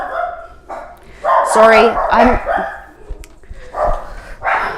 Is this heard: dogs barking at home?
yes